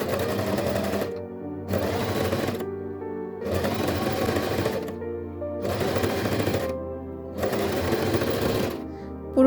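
A sewing machine stitches a dress seam in five loud, even runs of about a second each, with short silent gaps between them.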